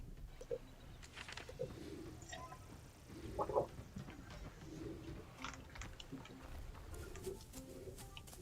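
Bird cooing in the Wizard101 game's Zafaria area, soft repeated coos over a steady ambient background, moderately faint with a brief louder call midway.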